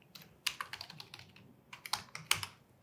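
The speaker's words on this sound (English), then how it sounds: "You type your password." A password typed on a computer keyboard, quick irregular bursts of light key clicks, close and fairly quiet, with no voices.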